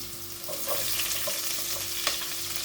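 Fenugreek, ginger, garlic and green chillies fry in oil for a chickpea kadala curry, giving a low, steady sizzle with soft bubbling pops and one brief sharper crackle.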